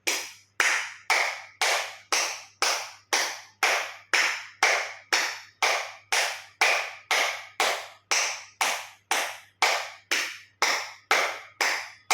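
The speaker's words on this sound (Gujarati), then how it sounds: "જોરથી 50 વખત તાળી આપીશું" Loud, steady palm clapping for acupressure, fingers and thumbs touching, about two claps per second, repeated continuously and evenly with no voices.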